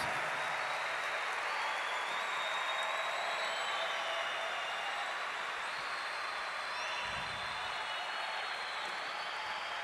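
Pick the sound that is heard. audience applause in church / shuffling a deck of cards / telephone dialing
audience applause in church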